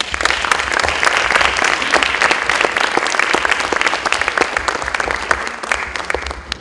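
Warm, sustained applause from a conference audience welcoming Dr. Raúl Moisés Camargo to the podium in Lima, dense and loud with many individual claps throughout.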